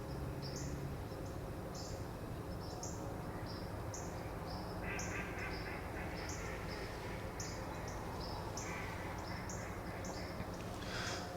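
Ducks quack again and again in a busy, overlapping chorus, fairly close, over a steady outdoor hiss, with no one talking.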